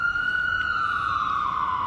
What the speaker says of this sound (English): Just wait for the ambulance to go by.